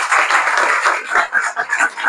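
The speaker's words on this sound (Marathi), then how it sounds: "सर्वांनी छानशा टाळ्या वाजवा अमोलसाठी" A small audience claps at a felicitation ceremony for a newly appointed assistant engineer, a dense burst of close hand claps that rises and falls in brief waves.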